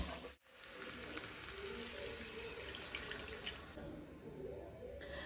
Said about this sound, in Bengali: তো এখানে এবারে জলটা দিয়ে দেবো।